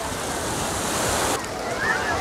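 Sea surf washing onto a Black Sea beach at Divnomorskoye, a steady broadband rush with wind noise on the microphone, continuous and fairly loud throughout with a slight shift partway through.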